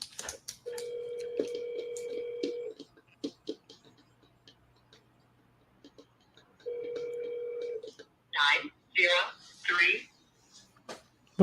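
A telephone call rings out through the line in two long ringback tones separated by a pause, with a person talking in short bursts between and after the rings.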